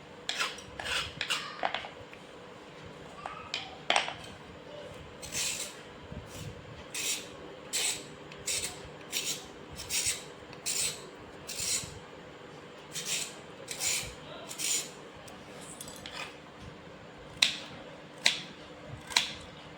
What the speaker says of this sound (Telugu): ఇలా చక్రాల మాదిరి తరుక్కొని మిక్సీకి వేసుకోవాలి